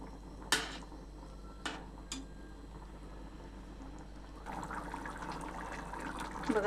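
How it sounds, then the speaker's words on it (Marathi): Thick Punjabi chole masala curry simmers in a pan with soft, faint bubbling. A few sharp pops come early on, and a denser burbling texture builds toward the end. "बघा छान उकळलेली ही भाजी."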